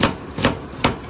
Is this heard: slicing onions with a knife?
yes